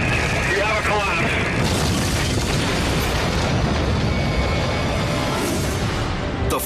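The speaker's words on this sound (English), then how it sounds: "The flaming spire crumbles from its perch, exploding onto the sidewalk below." Burning church spire collapsing from a lightning-strike fire onto the sidewalk below, a continuous loud roaring crash and rumble with a person talking over it.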